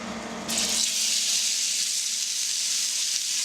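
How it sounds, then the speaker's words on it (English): Minced beef hits a hot pan on an induction cooker and breaks into a loud, steady hiss of sizzling fat that continues evenly at close range with no voices. "I'm just going to fry that up in the pan so it's really nice and golden and all the fat cooks out."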